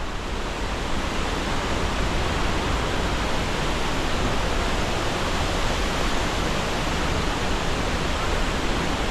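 La Fortuna Waterfall roars steadily and loudly throughout, a dense, unbroken rush of falling water with no voices.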